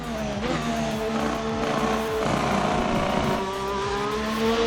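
FR X22 race car with a 1.6 litre V6 turbo hybrid engine in a racing simulator, its engine note rising and dipping through gear changes, loud and continuous with no talk.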